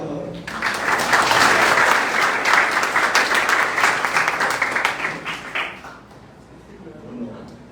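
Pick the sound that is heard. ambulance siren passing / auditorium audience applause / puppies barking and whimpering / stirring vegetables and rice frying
auditorium audience applause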